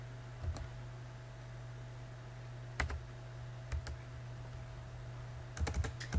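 Soft keystrokes on a computer keyboard come in scattered bursts and single clicks over a quiet room hum, faint and close, with no talking.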